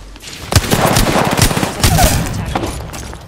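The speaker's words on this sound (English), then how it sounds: "Opening fire." Gunfire in Apex Legends: several loud, sharp shots in an irregular rapid sequence, close and punchy, with a brief burst of rattling fire in the middle and the shots thinning out toward the end.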